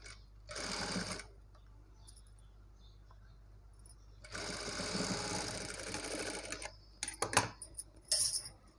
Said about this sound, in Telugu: అది ఒకదానిపైన ఒకటి పెట్టేసి ఒక టాప్ స్టిచ్ వేసేసుకోవాలి